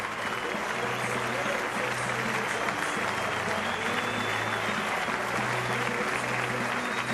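A baseball crowd at a college regional game applauds a pitcher leaving the mound, with steady, sustained clapping that stays loud and even throughout, while a commentator talks underneath.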